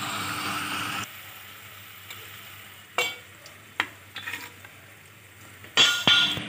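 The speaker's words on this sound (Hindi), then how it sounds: "अब अरबी फ्राई हो चुकी है" Taro (arbi) pieces frying in hot oil for a chicken curry, a steady sizzle for the first second, then quieter stirring with sharp clinks and scrapes of a utensil against the pan.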